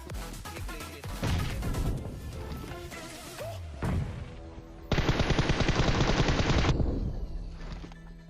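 Gunfire in the video game PUBG rattles in quick automatic bursts, with a sharp impact midway and then a long, loud sustained volley of rapid shots near the end.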